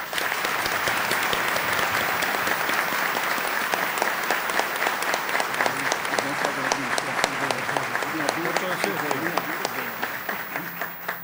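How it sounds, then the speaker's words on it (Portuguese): Audience applause at a court inauguration ceremony, a long, loud, sustained round of clapping from a large crowd with many sharp individual claps, while a voice speaks faintly underneath partway through. "o desembargador Humberto Adjuto Ulloa, para quem peço uma salva de palmas."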